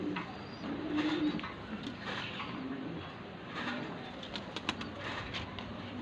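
Sialkoti and Firozpuri pigeons coo softly in a loft, with low murmuring calls running steadily through the whole stretch over a faint background hiss and no talking.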